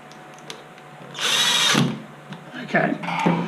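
A power tool drives the top cowling screws on an MGI Zip Navigator golf trolley, a short loud whirring burst with a second quieter run after it, amid faint clicks and handling noises.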